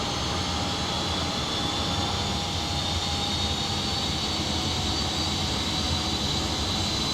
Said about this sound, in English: Let's have a look at the engine while we just spool up.